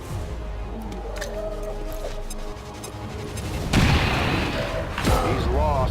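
A frag grenade goes off in XCOM 2, with a loud crashing blast about two-thirds of the way through, following a stretch of game ambience and a shouted voice line.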